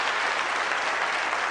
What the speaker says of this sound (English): Mayor Ken Cockrell got a round of applause when he promised to create a level playing field